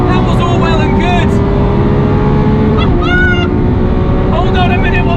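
A Lamborghini Aventador SVJ accelerates hard down a straight, its engine a loud, constant roar with rising whines as the revs climb, and someone speaks over it.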